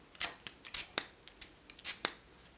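A perfume spray bottle being pumped, several short sharp hissing bursts in an irregular run, close and crisp, with quiet gaps between them.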